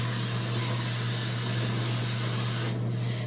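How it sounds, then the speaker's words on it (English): Avocado oil cooking spray hisses steadily onto a pan in one continuous burst for nearly three seconds, close and fairly quiet, then cuts off abruptly. "I'm going to take my avocado spray, and I'm going to spray my pan."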